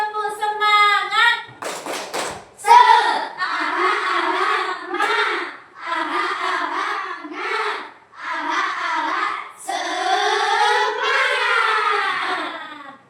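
A class of schoolchildren performs the tepuk semangat clapping chant, voices chanting loudly in unison in short rhythmic phrases, with a burst of hand claps near the start and clapping woven through the chant.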